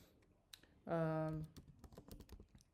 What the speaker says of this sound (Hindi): यहाँ पे आपने टाइप करना है थाईलैंड